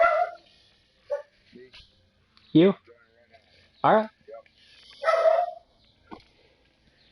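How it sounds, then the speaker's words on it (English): A dog barks and yips in short separate bursts with quiet gaps between them, fairly loud and close, while someone says a few words in between. "I apologize for the dog."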